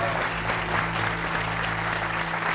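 Steady, dense applause from a stand-up comedy audience greeting a comedian, filling the room evenly at close range with a faint low hum beneath and no voices.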